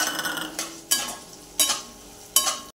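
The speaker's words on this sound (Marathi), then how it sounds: "ह्याच्यामध्ये टाकून घेऊया गाजर" Carrots dropped into a hot pan with crushed ginger and garlic and stirred for pulao, giving three short bursts of scraping and sizzle separated by quieter frying.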